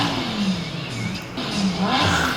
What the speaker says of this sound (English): This is me revving the Huracan from Carson Coffee.